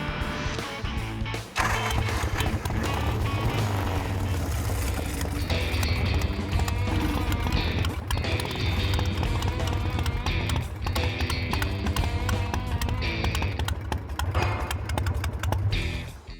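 Vintage Harley-Davidson motorcycle engine idling nearby, a loud steady low-pitched lumpy rumble with a rhythmic loping beat that carries on throughout.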